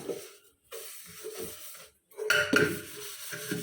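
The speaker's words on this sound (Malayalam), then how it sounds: "ഈ സോപ്പ് വെച്ചിട്ട് നമുക്കിതുപോലെ ചായപാത്രം ഒന്ന് തേച്ച് കൊടുക്കാം" Soft scrubbing and rubbing of soap on a stained tea pot, with light scraping and brief metallic clinks from the vessel, quiet and intermittent with short pauses.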